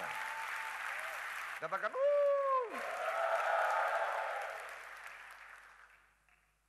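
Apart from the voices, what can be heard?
church congregation applauding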